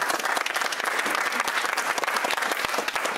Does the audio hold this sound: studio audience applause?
yes